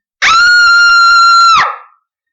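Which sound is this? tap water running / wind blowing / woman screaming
woman screaming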